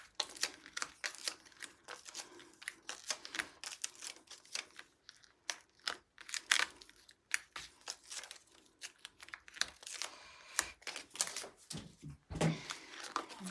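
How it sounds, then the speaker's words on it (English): Backing paper being peeled off foam pads for cardmaking, a run of quick crinkly rips and crackles in irregular bursts, close and fairly quiet with short pauses between. "Peel backs off of those,"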